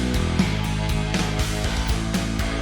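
Metal band recording heard with no EQ, the heavy distorted guitars keeping their full low body over pounding drums; a dense, loud, continuous full-band passage with steady rhythmic hits and no voices.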